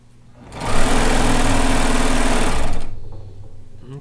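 A serger sewing machine stitches fabric for a kimono in one loud, continuous whirring run lasting about two seconds, starting abruptly, then stopping with a brief trailing hum.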